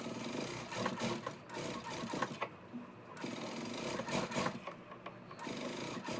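Domestic sewing machine stitching thin piping onto the sleeve of a Punjabi dress, quiet bursts of rapid mechanical needle chatter separated by short pauses and faint handling of cloth.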